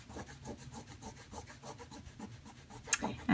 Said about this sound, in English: I think we're ready to take this masking fluid off. So you just do that with your finger.